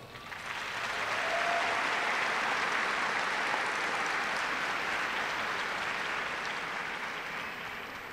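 Large commencement crowd giving a generous round of applause, a steady, even wash of clapping that swells in at the start, holds and slowly tapers off, heard from a distance.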